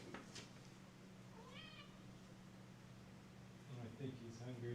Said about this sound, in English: I'll give you guys a look at the cat that Skidla won.